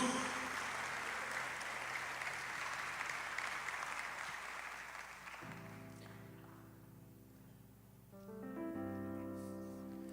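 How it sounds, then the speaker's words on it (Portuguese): Church congregation applause, moderately dense clapping that fades over about five seconds as sustained keyboard chords swell in and continue, fairly quiet overall. "Pode dar uma salva de palmas a Jesus."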